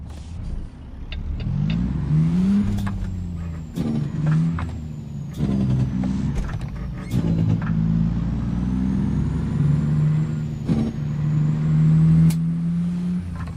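A truck engine with the exhaust turned up in a truck driving simulator drones and revs through repeated gear shifts, with sharp air-brake hisses and clicks breaking in, loud and close throughout.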